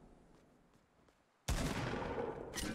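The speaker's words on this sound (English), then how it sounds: "I'm just trying to shotgun something." A single shotgun blast in the Fortnite video game bursts in loudly after a quiet stretch with faint clicks, followed by a brief ringing tail and a second smaller crack near the end.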